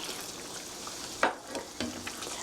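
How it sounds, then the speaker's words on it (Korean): Soft scraping and stirring of thickened mapo tofu sauce in a pan over a low simmering bubble, with a couple of brief utensil knocks against the pan. "살살 저어주세요."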